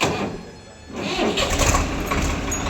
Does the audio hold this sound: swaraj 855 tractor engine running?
yes